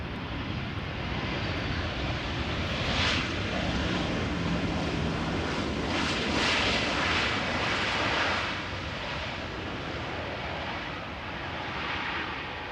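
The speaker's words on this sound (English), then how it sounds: "(737-800) KLM arriving from Barcelona" A KLM Boeing 737-800 arrives at Amsterdam Schiphol from Barcelona, its engines giving a distant, continuous rumbling roar that swells around the middle and slowly fades, with light wind noise mixed in.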